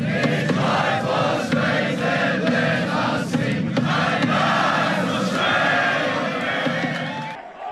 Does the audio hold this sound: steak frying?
no